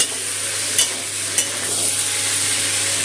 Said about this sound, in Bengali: টক দইটা দিয়ে মশলার সাথে আর একটু কষিয়ে নেব।